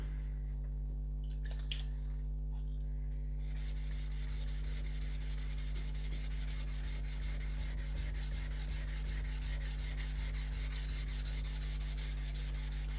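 Knife strokes worked toward the tip on an NSK Oboro whetstone, a fast, regular rasping rub repeating close up over a constant low hum, with no voices.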